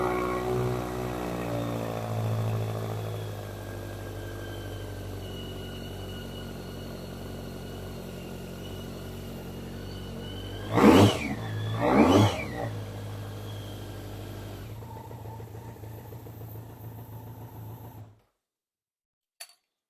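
A 1990 BMW K1 motorcycle idling steadily on choke, followed by two sharp revs close by, then a lower rumble before the engine cuts off to silence.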